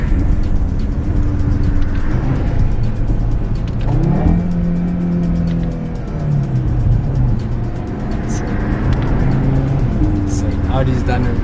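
Audi RS3 sedan engine roaring loud and close through downshifts, with rising and falling revs and blips over a constant road rumble, and a voice talking over it.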